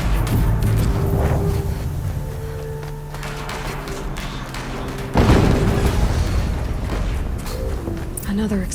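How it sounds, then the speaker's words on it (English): Explosion in the video game Horizon Zero Dawn Remastered, deep booming blasts with a sharp loud hit midway and rumbling debris, among ongoing heavy battle noise and talk. "An explosion."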